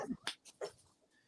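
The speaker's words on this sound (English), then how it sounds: "I'm sorry about my dog" Dog whimpering indoors, a few short high whines and soft breathy sounds in quick succession, faint and close with nothing else around.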